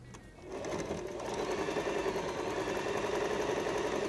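A sewing machine runs steadily at close range, stitching the first piece of a fabric jewelry organizer without pause.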